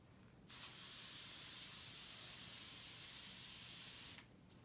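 A single sustained hiss of fabric wrinkle release spray onto a shirt lying flat, about three and a half seconds, steady and close, starting and stopping abruptly in a quiet room.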